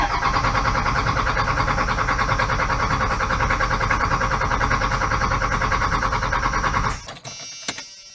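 A first-generation Dodge Cummins diesel engine cranking over with a loud, steady rhythmic starter churn for about seven seconds, then stopping abruptly, leaving a few faint clicks and rattles.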